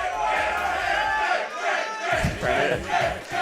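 A fighting game tournament crowd at an Under Night In-Birth II top 8 roars and chants in bursts to rally hometown player Jade, a dense, loud wall of voices with rhythmic shouted surges.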